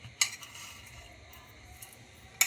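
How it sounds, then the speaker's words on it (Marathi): A spoon clinks against a bowl a couple of times while carrot beetroot salad with sugar, cumin powder and salt is mixed, with soft stirring in between; quiet and close. "चला आपण याला मिक्स करूयात."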